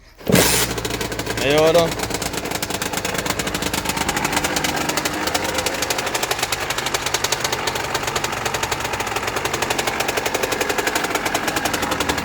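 A motorcycle is kick-started: one sharp kick and catch, then the single-cylinder engine settles into a fast, even, loud idle with rapid regular firing pulses. A voice speaks briefly near the start.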